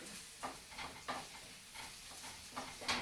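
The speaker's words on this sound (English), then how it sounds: "And then one more stir and the calamari is going to go in" Garlic and red pepper flakes are stirred in a frying pan before calamari goes in, giving a soft steady sizzle broken by repeated light scraping strokes of the utensil against the pan.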